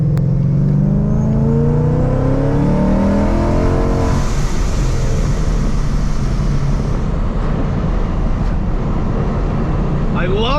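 A 700 HP supercharged Ford Mustang engine roars close up, its exhaust climbing through rising revs as it accelerates hard on backroads, then settling into a loud rumbling drone.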